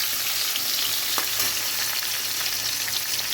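Mango pieces fry in a pan for mango chicken, giving off a loud, dense, continuous sizzle close by with a brief stirring knock and no talking.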